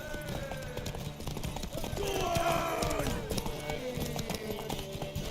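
Hooves of a horse in The Witcher 3 patter rhythmically at a gallop, moderately close, under in-game dialogue voices.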